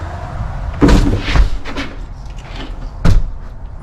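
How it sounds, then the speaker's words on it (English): An RV front door on an R-Pod 192 travel trailer swung and shut, with a couple of soft thuds and rattles followed by one firmer closing thump near the end, close by in a quiet interior. "I'm going to try to shut this door"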